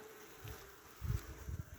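Soft, low Carniolan honey bee buzzing in short bursts that swell and fade, a few bees flying close by against a quiet background.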